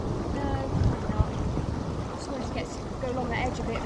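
Strong wind buffets the microphone while kayaking on a river in northern Spain, a steady loud rushing roar with water sounds and occasional knocks throughout.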